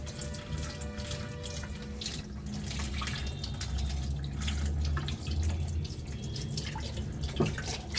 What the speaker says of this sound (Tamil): இப்போ நம்ம இந்த பொட்டையெல்லாம் தண்ணியில் கழுவிட்டோம் பார்த்தீங்களா.